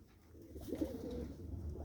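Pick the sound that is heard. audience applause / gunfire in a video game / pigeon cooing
pigeon cooing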